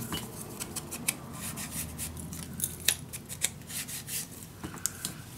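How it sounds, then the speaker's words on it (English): Scissors snip through paper for a vintage winter mini album, a quick run of close, crisp cutting strokes with light papery rustling and no talk. "And cut this one off."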